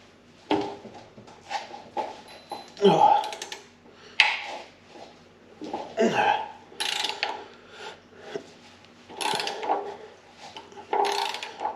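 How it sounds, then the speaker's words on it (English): A makeshift breaker bar being worked against a nut secured with heavy red Loctite during a motorcycle rear suspension install, heard as repeated close metallic clicks, creaks and scraping strains in irregular bursts. "we're going to make a makeshift breaker bar, and hopefully we break the nut loose and not anything else"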